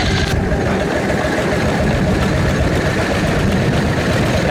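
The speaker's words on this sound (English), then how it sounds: "Actually sounds pretty good for a one cylinder." One-cylinder engine of an 1898 Jeanperrin vis-à-vis car running while driven slowly, a loud, close, steady chugging rumble with rough road noise, no voices heard.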